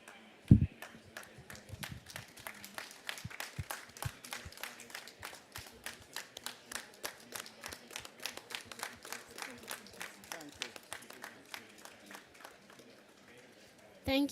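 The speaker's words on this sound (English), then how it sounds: "Let us clap for these children." An audience at an intergenerational food-security dialogue claps for children, with sharp, distinct claps coming at a steady pace. The claps sound fairly close and moderately loud, then the clapping tapers off near the end.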